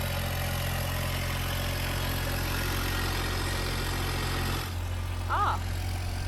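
The engine of a John Deere 1025R subcompact tractor idles with a steady, close, droning hum. A brief dip comes near the end, followed by a short faint chirp.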